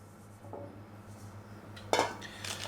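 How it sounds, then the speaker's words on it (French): A salad bowl is handled on a counter before flour goes in, giving a soft scrape near the start and then a sharp ceramic knock with a brief clatter of dishes, all close and fairly quiet. "je prends mon saladier"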